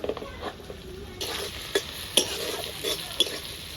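Green chillies frying with onion and tomato in a pan, stirred with a spoon: a constant sizzle under repeated scraping strokes and a few sharp clinks, close and loud.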